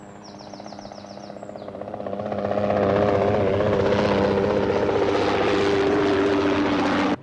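A helicopter's rotor chops in a fast, steady beat that swells from moderate to loud and close, then holds a constant heavy thrum, with a few faint bird chirps early on.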